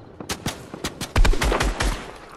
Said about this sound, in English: Yeah, they're shooting us down.